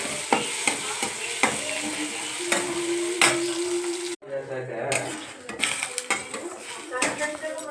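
Onions, green chillies and curry leaves fry in hot oil in a pan for egg fry, a steady sizzle broken by sharp metal spoon clinks and scraping stirs against the pan, close and clear.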